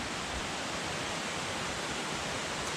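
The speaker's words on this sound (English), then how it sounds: "So there's a waterfall right through there." A waterfall on a mountain stream along a backcountry trail in the Pemigewasset area gives a steady, even hiss of rushing water, moderately distant, with no other sounds over it.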